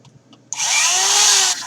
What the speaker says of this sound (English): you turn them on a lathe, or turn them on a drill